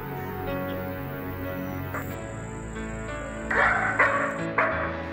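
Dogs bark at a thief in a few sharp, loud bursts near the end, over a steady background of music-like tones and hum.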